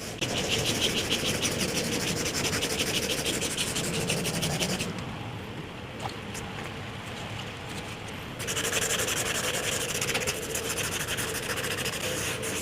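Hand rubbing of a rusty car roof to key the metal before epoxy goes on, a soft continuous scratchy scrubbing that eases off for a few seconds in the middle, then picks up again.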